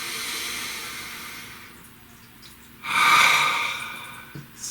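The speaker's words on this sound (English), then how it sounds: "Please take a nice deep breath." One deep breath taken close to the microphone, a long airy hiss that swells and then fades, with quieter breathing around it and no voices.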